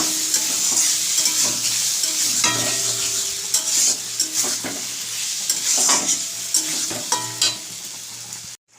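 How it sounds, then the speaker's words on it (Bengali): Green chilli and ginger spice paste sizzles steadily in a pan while a spoon scrapes and stirs, with frequent clinks against the metal. "সেই মশলাটাও একসাথে কষিয়ে নেব"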